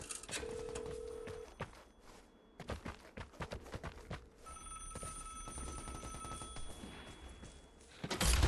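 An in-game telephone rings close by in the PS5 shooter Vigor, a short electronic ring near the start, followed by scattered, sharp gunshot bursts and later a sustained tonal ringing with more shots underneath.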